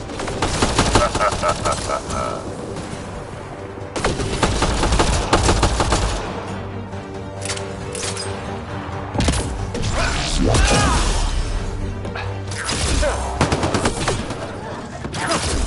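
Gunfire crackles through a Mass Effect Andromeda shootout, with repeated bursts and sustained volleys layered over mechanical clatter, loud and continuous across the whole stretch.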